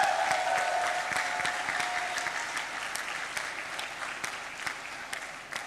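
An audience applauds at a global youth forum as recommendations are finalized. The clapping is moderately faint and slowly thins over several seconds, with a few distinct close claps standing out.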